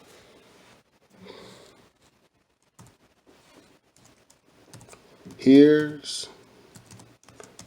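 Keys on a computer keyboard are tapped in short clusters of light clicks, with a voice speaking briefly over them.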